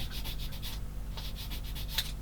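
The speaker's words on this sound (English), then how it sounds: "if I do a bit of sanding with this small one" Close-up sanding, with short rhythmic rasping strokes of abrasive against a small hard plastic model tank part, a brief pause midway, then more strokes.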